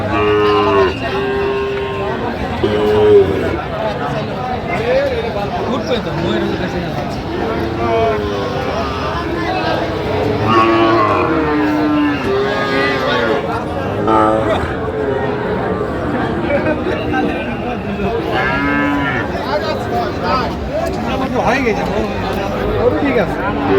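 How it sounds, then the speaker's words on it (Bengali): Sahiwal breed cattle at a livestock market in Feni, with repeated moos near and far over a dense hum of crowd chatter and people talking close by. "আমরা দেখছিলাম গরুগুলো কিনছেন মমিন ভাই"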